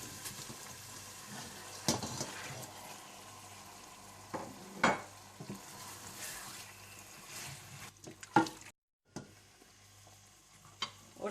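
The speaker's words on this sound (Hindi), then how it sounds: "जब टमाटर अच्छी तरह से भुन जाएं तो आप इसमें चिकन डाल दें।" Chicken added to a roasted tomato paste in a pan: a low frying sizzle with intermittent stirring clanks and scrapes, fairly quiet, with a brief pause near the end.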